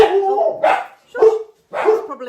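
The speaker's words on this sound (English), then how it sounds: "now the dogs are all barking" Several dogs bark in short bursts, three loud, close clusters of barks and yips separated by brief pauses.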